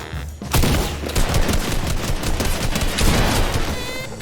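Dense, continuous video game gunfire from a squads battle royale match rattles loudly and closely throughout, layered automatic bursts overlapping with no gaps and no voices.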